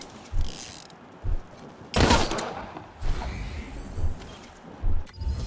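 Pistol shots in the game Wasteland 3, a handful of sharp reports spaced about a second apart with one heavier blast, mixed with clicking mechanical clatter, close and fairly loud.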